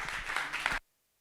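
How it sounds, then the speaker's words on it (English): Audience applause rings out for a presenter at an architectural design awards finale, a dense burst of clapping that stops abruptly into silence after less than a second. "Ladies and gentlemen, a round of applause."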